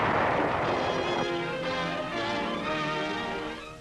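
Dense, continuous artillery and gunfire from WWII combat on Iwo Jima near Mount Suribachi, a loud rumbling barrage that slowly fades near the end.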